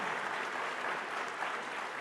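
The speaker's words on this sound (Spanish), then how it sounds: "Quiero por favor que les demos un aplauso a todos nuestros panelistas." An audience at a gas energy forum panel applauds the panelists, steady dense clapping throughout at moderate distance, with no pauses.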